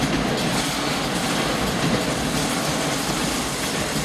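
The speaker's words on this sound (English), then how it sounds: "So I'm thinking these trains may be coming from that GM plant." A freight train with GM locomotives rolls past in South Dallas, a loud continuous rumble with rail clatter and wheel noise filling the whole stretch, no voices.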